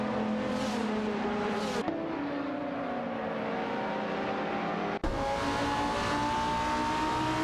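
Racing cars in an AI-driven video game race, among them a Lamborghini Gallardo GT3 and a Panos Abruzzi GT2, whine loudly at high revs with shifting pitch and abrupt cuts between cars, no voices.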